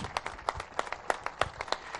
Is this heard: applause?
yes